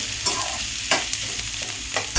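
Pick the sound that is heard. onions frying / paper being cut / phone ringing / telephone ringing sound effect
onions frying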